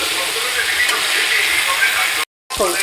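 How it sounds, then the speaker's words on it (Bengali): Cumin powder and spices fry in hot oil with a steady, close hiss and sizzle that cuts out briefly near the end before resuming. "এবার আমি জিরের গুঁড়োটা দিয়ে একটু কষিয়ে নেব।"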